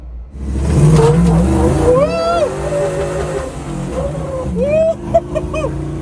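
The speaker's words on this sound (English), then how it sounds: "we need to see how that dual 2 1/4 into single 3-inch stainless steel MagnaFlow sounds" A 6.0 LS V8 in a Scrambler on 37-inch tires roars and revs hard to the rev limiter under excited shouting, pitch climbing through gear changes with a raspy tone from dual 2.25-inch into single 3-inch stainless MagnaFlow exhaust.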